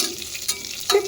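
Amla pieces sizzle and crackle in a pan while being stirred, a steady close frying hiss with two brief louder bursts from stirring.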